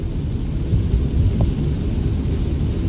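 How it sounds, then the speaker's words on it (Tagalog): Typhoon weather in Japan on a Saturday: a steady, heavy roar of wind and hard rain fills the scene, with a dense low rumble throughout and no other sounds standing out. "Bagyo ngayon sa Japan guys, araw Sabado."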